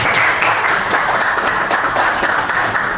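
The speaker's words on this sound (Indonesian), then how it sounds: "Minta tepuk tangan buat kalian semua." Applause from a school class of students, a dense, steady patter of many hands clapping together for a few seconds with no speech over it.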